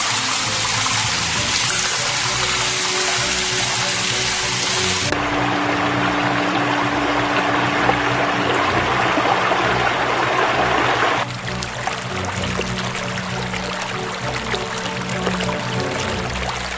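Floodwater in the streets of a Polish city such as Sandomierz rushes loudly and continuously, a steady broadband roar of flowing water with shifts in tone but no pause.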